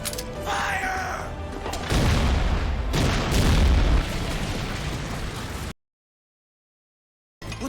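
Cannon fire and explosions roar from an anime battle scene in Attack on Titan, a loud, dense rumble with heavy booming bursts that swell midway, then cut to sudden silence before resuming briefly.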